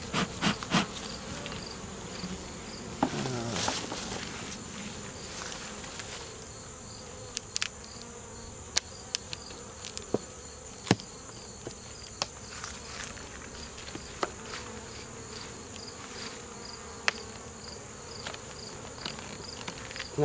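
Bees in a queen box, a faint, continuous buzzing hum with scattered soft clicks and taps over a quiet background.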